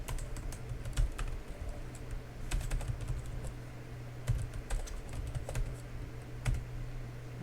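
Code being typed into Roblox Studio on a computer keyboard, a steady run of close, crisp key clicks over a low hum, with no speech.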